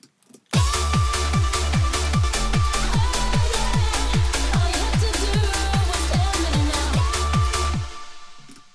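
A supersaw synth part with and without its second layer, a loud track of rhythmic plucked chords over a pumping bass that repeats about twice a second, starting after a short lead-in and fading out at the end.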